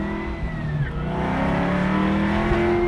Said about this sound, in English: Let's take our 69 Camaro out for a ride